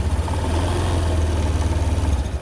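A motorcycle engine idles steadily during a check of a weak, frequently draining battery, giving a continuous low rumble with a fast, even pulse that stays close and fairly loud throughout.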